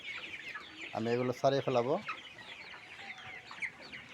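Chickens on a poultry farm give a short burst of loud, close clucking calls, followed by fainter clucks and chatter; someone speaks briefly.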